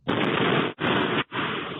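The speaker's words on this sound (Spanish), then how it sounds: "un carro bomba. Este es el momento en el que estalla" A car bomb detonates in Saravena, heard as very loud, harsh, distorted blasts that roar in three long bursts with short gaps between them.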